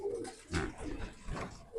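Healthy pet bird, shown during a bird bloating-care demonstration, gives soft repeated coos, a few close low calls spread across a short stretch with a quiet gap between them.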